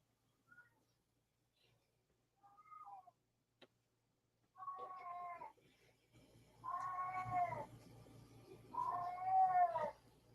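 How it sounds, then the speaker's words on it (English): A domestic cat meowing indoors, wanting to go outside: a few faint short chirps, then three long, loud, wailing meows at a regular pace, close by in a quiet room. "Is that your cat, Paul?"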